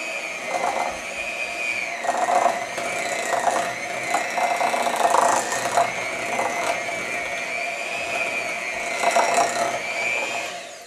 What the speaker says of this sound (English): now you want to start by beating your butter until it's nice and creamy